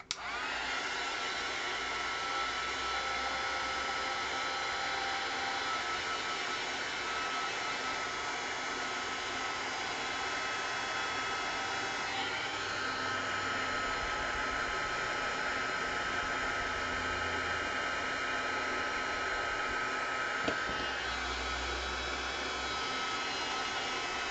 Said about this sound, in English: Just gonna hit this really quickly. The heat tool.